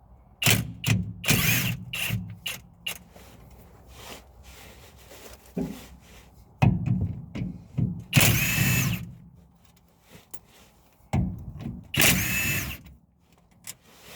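A Flex impact wrench, the big model, runs in short loud bursts of several seconds each during an 8.5-inch 10-bolt rear gear change on a V8 S10 pickup, with clicks and shop handling noises between the bursts.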